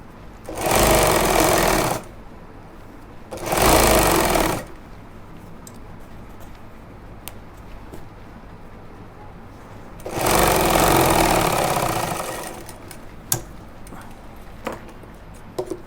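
Sewing machine stitching a pajama pocket runs in three separate bursts of steady, rapid whirring, close and moderately loud, with quiet pauses and small handling clicks between them.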